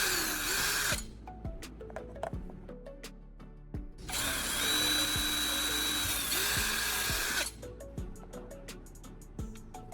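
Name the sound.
power drill drilling holes in a metal U-bracket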